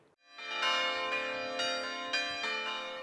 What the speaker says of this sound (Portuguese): No repicar dos sinos, o anúncio esperançoso do tempo que se aproxima.